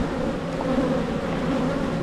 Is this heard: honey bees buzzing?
yes